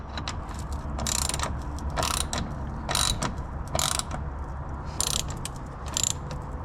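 Loose bolts on a Mustang engine are snugged with a ratchet, which gives repeated bursts of quick metallic clicking. Each burst is separated by brief pauses, up close over a low steady background hum.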